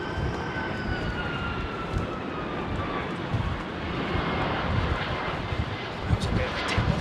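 A Singapore Airlines 747 freighter on approach and landing in London makes a steady, broad jet rumble with a faint whine sliding downward, while a voice talks over it.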